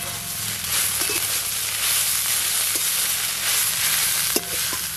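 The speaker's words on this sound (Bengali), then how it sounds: "চাপা খুলে একবার নেড়ে নেব।" Sushni greens frying in a pan as they are stirred, a steady loud sizzle with light scraping and a sharp knock near the end, no talk.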